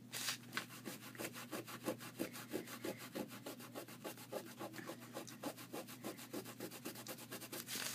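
Paper is scrubbed against an art journal page layered with tissue paper, giving a quiet, steady back-and-forth rubbing in a quick, even rhythm throughout.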